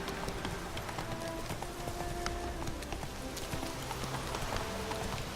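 A horse gallops steadily in The Witcher 3 video game, rapid rhythmic hoofbeats over a dense, constant game soundscape.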